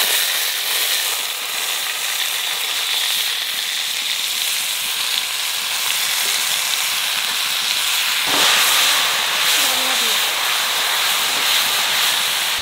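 Khero, a vegetable from Birbhum, hits hot oil with mustard seeds in a pan, producing a loud, steady, close sizzling hiss that holds throughout and swells slightly partway in.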